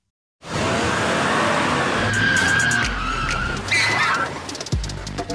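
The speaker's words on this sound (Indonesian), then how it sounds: "Mereka berempat kemudian langsung menerobos masuk ke dalam gedung dengan menggunakan mobil Songyung." A car bursting into a building in an action film scene, engine roaring loudly throughout, with sustained tire squeal and skidding, then a sharp impact and scraping near the end.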